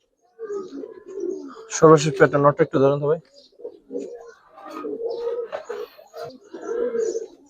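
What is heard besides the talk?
pigeons cooing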